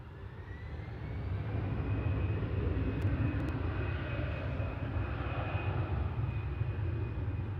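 A 10-year-old Airbus A320 jet for the Bordeaux flight at Manchester Airport gives a faint, steady engine roar with a thin high whine, swelling slightly after the first second and holding to the end.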